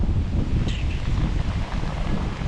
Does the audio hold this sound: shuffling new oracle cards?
no